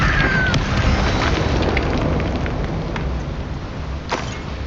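A loud, booming Bombarda explosion spell detonates in Hogwarts Legacy, a dense roaring blast that washes continuously across the whole stretch with crackling debris and a faint later thump.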